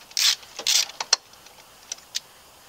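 Hand tools working on a 150 cc long-case scooter's CV belt drive, loosening the spring keeper: a few short metallic ratcheting bursts followed by scattered faint clicks and taps, close and otherwise quiet.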